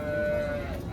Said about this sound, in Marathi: तर पाहू शकता गाय चांगल्या आहे जर्सी ब्रीड मधली.